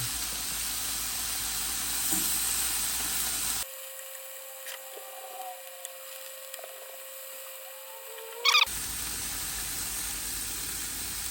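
Venison inside straps sear in a hot pan, a steady hiss of sizzling that cuts out to near silence for a few seconds, with a faint whine and a brief clatter before the sizzle returns.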